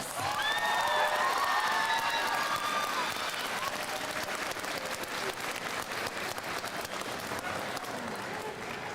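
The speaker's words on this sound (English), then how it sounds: "Let's give our Coyote Guard another round of applause." A crowd at a high school Veterans Day ceremony applauds steadily, a dense wash of clapping that slowly fades a little, with a few whoops early on.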